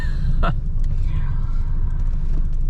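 A 1988 Mercedes-Benz E 250D W124 diesel with a four-speed automatic, heard from inside as a steady low engine rumble while driving, with a brief sharp sound near the start.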